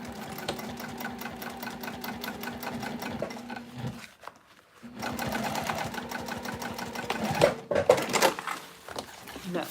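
A sewing machine top stitches a bag seam with a fast, close, rhythmic mechanical chatter, pausing briefly midway before resuming in a longer run.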